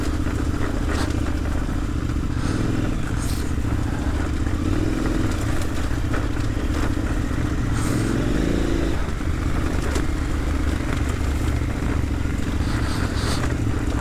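A Honda Africa Twin 1000 adventure motorcycle rides during an off-road trail weekend in Occitanie, giving a continuous engine drone with rattles and small clatters. The engine rises briefly now and then.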